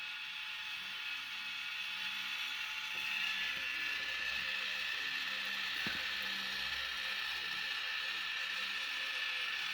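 A Yaesu G-800SA antenna rotator, fitted with a replacement electric motor, turns counterclockwise with a steady mechanical whir and gear grind, plus one brief creak or clunk partway through, heard alone without talk.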